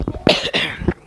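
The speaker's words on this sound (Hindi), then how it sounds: "सबको खांसी हो गई ना" A single person coughs in a classroom during a mathematics lesson, a short burst of two or three harsh, close coughs with no other sound.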